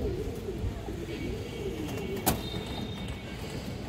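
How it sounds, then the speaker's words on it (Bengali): Pigeons at a farm, including a red-eyed female, coo softly and continuously at close range, their low murmuring steady throughout with a brief sharp noise partway. "লাল গিয়ারের মাদি কবুতর, অনেক সুন্দর একটা মাদি কবুতর দর্শক"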